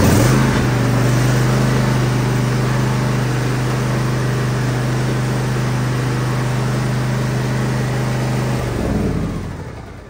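A riding lawn mower engine idles steadily with a loud, droning hum for about nine seconds, then shuts off and fades out.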